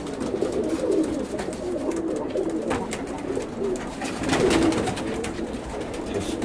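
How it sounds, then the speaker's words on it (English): Tippler pigeons, including cap-marked birds, coo repeatedly at close range in a loft, with soft rolling calls over a continuous background of bird noise and rustling. "Just some of the birds I'm, you know, just playing around with."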